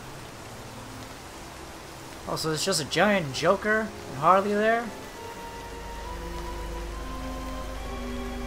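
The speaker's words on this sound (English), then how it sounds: "Like that little rain effect that it does on the screen." Steady hiss of rain in the Gotham setting of the video game LEGO DC Super Villains runs through, with someone talking over it in the middle.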